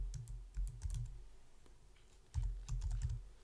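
Keys clatter on a computer keyboard as a domain name is typed, two quick bursts of close, crisp clicking separated by a short pause, with no talking.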